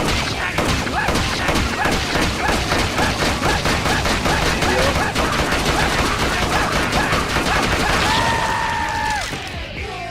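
Rapid continuous gunfire from the brawler video game MadWorld, a dense sustained rattle of shots with crunching impacts, loud and close for most of the stretch before fading near the end.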